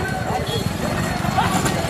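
Bull hooves clatter in rapid, uneven beats during a small bullock cart race at Ilavelangal, heard close and continuous beneath loud shouting voices and crowd noise.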